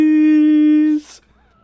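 A cat meows in the video game Yakuza 6, one long steady high-pitched cry lasting about a second, then fading into quieter background sounds.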